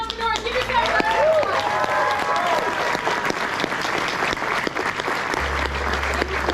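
An audience at the first live event of Arizona Entrepreneurs breaks into loud, sustained applause, with dense clapping filling the whole stretch and a voice rising briefly at the start.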